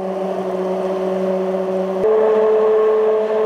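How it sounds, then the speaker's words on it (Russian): A blender purees pumpkin cream soup with a close, loud, steady motor whine that jumps to a higher pitch partway through before cutting off at the end. "мы перебьем наш суп."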